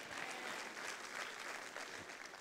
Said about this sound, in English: Give the Lord a clap offering and shout amen